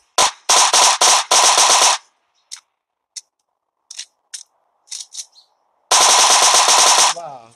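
Gunfire and a motorbike explosion in the mobile battle game PUBG Mobile: loud bursts of rapid automatic shots, then scattered single cracks separated by silence, and finally a long sustained volley that fades.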